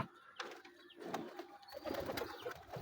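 Pigeons coo softly at a few points, their low throaty calls fairly close against faint background noise, with a few chirps mixed in.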